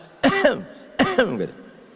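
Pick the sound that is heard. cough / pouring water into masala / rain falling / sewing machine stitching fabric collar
cough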